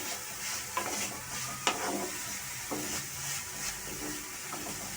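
Onions frying until reddish-brown for a prawn-in-milk curry, a soft continuous sizzle broken by several sharp scraping stirs of a spatula against the pan, close and moderately quiet.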